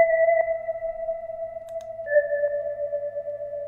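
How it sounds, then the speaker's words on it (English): A sustained synth pad holds a steady tone with a bright upper layer, smooth and continuous, shifting slightly in pitch partway through. "I'm using the drop preset so that we have this nice big airy sound."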